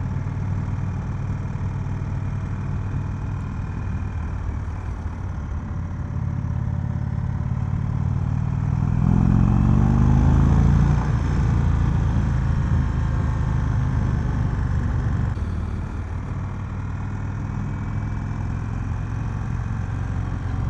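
A 2021 Indian Vintage Dark Horse motorcycle, its engine rumbling at idle and then rising as it rides off, a loud, low, continuous drone mixed with wind rush, with no voices.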